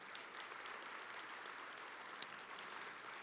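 Applause from an audience at an education event fills the whole stretch as a steady, soft wash of clapping, heard from a distance with no other sound over it.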